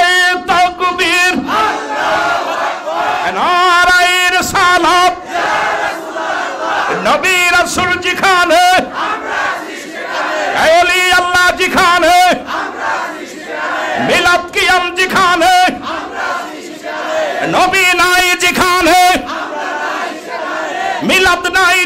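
At an Islamic sermon gathering, a large crowd loudly chants the takbir again and again in powerful, rhythmic bursts, with brief pauses between the roaring calls.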